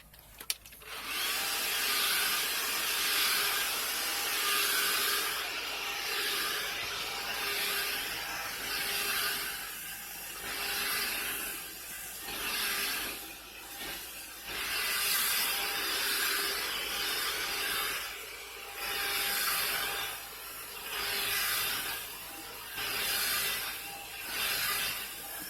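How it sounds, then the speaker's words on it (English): A Dirt Devil handheld vacuum cleans carpet inside an RV, whirring steadily and close up. Its pitch swells and dips in a regular rhythm as it is pushed back and forth. "I got these cool little Dirt Devil, little handy vac."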